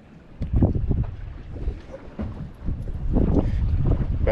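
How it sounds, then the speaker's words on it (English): A boat moves through choppy water with wind buffeting the microphone, low rumbling gusts and splashes rising and falling unevenly. "You like the boat, Sylvie?"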